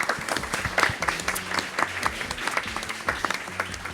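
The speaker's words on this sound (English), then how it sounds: "Give yourself a warm round of applause." A warm round of applause from an audience at a real talk event, dense continuous clapping close and loud throughout, with no speech over it.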